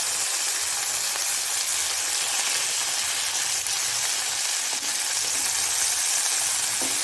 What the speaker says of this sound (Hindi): अच्छे से इसको फ्राई होने देंगे एक साइड से